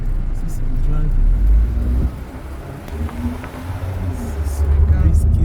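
A car driving along a road, a steady low engine and tyre rumble heard from inside the vehicle, fairly loud and continuous with faint voices underneath.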